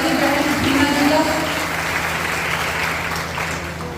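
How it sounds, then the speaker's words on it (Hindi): Attendees at a women's credit cooperative awareness camp applaud loudly to welcome a guest, steady clapping with a low engine-like hum underneath and some voices mixed in. "जोरदार तालियों से स्वागत हमारी बहन टीना जी का।"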